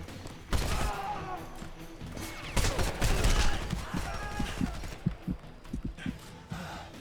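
Light machine gun fire in the Homefront video game: dense bursts and sharp shots, loud and close, with scattered single reports toward the end and game voices mixed in.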